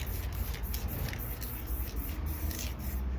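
Spray paint hissing onto paper, a steady broadband spray with short bursts and pulses running through the whole stretch, close and fairly quiet.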